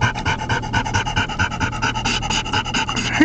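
A dog pants rapidly and steadily inside a car, close and loud, with a low road and engine rumble underneath.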